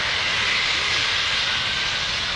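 Engines of a C-17 Globemaster III military transport roar loudly and continuously during a flying demonstration, a dense, steady broadband rumble and whine.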